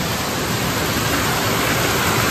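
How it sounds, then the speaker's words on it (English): Indoor waterfall in the middle of a boutique store, a loud, steady broadband rush of falling water that fills the space continuously with no breaks. "Very unique that they decided to put a waterfall here. It's very loud, but it's kind of calming"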